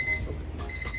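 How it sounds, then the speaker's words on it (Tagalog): A salon timer clock's alarm goes off, a steady electronic ringing tone that pulses repeatedly for about a second, close and fairly loud over low background rumble. "nag-timer na po yung aming timer clock"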